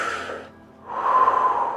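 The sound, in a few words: breathing in and exhaling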